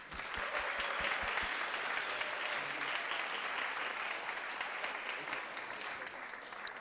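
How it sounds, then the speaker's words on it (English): Steady, full applause from an audience in an auditorium at a National Honor Society ceremony, heard at a moderate distance, with a few sharp claps standing out at the start. "Round of applause to all of you."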